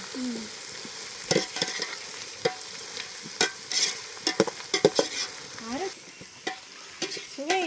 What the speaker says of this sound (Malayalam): നല്ല ബ്രൗൺ കളറായിട്ട് അതുവരെ നമുക്ക് ഇളക്കാം അല്ലേ.